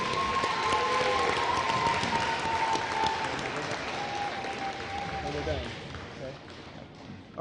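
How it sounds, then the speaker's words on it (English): An audience applauds fourth-grade contestants at a school Shark Tank finale, a steady wash of clapping and crowd noise that slowly fades, with a voice speaking over it. "Congratulations. Let's give them a big round of applause."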